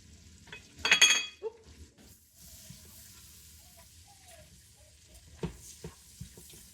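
Onion and garlic frying in a pot on a home stove: a soft, continuous sizzle runs throughout, with a louder clatter of a utensil stirring near the start and a few light scrapes and taps later.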